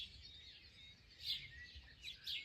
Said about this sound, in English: All you can hear is birds